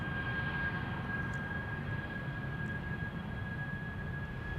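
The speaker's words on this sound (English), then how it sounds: "This is BA flight 433 to London Heathrow, an A319." A British Airways Airbus A319 jet departing Amsterdam Schiphol produces a distant, steady broadband roar with a faint high whine over it.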